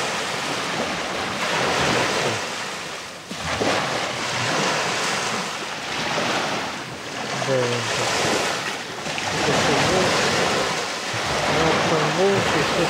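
Sea waves washing onto the shore in a steady, broad rush, with wind buffeting the microphone and a few brief voices breaking through.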